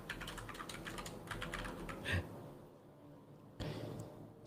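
Soft, rapid keystrokes on a computer keyboard, a run of taps that trails off into near silence before one more faint clack.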